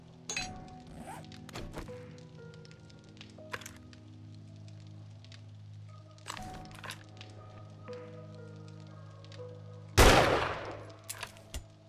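Rifle shots at a zombie in the video game 7 Days to Die: a few sharp cracks spaced over quiet ambient game sound, ending in one loud, booming blast near the close.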